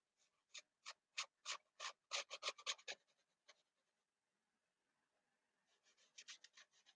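Soft pastel rubs on paper in quick, rhythmic back-and-forth strokes, a burst of about a dozen close, faint scrapes, a short pause, then another run of rubbing.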